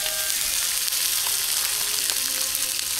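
Steady close sizzling of breakfast frying in a pan outdoors at a forest campsite, crackling and spitting continuously with faint clinks, no talking.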